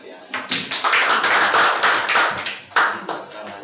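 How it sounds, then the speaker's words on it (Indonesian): Audience applause at the close of a mathematics education micro-teaching session, a dense burst of clapping hands that swells, dips briefly, and surges again, fairly loud and close throughout. "Kita beri aplaus yang"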